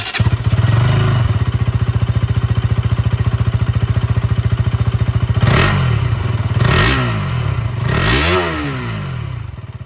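A 2026 KTM Duke 200 with an underbelly exhaust idles loudly up close with a rapid, even thumping pulse, then is revved three times, each rise and fall of the engine note sharp and distinct.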